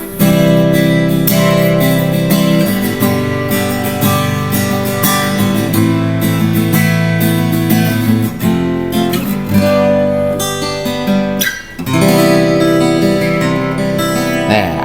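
Bright, ringing genuine Yamaha F310 acoustic guitar strums chords and picks notes continuously, loud and close, with a brief pause near the end before playing resumes.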